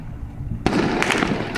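Fireworks launched from the rooftop of a house burst in suddenly after a quiet lead-in, giving a loud, dense crackling barrage of pops and bangs that continues to the end.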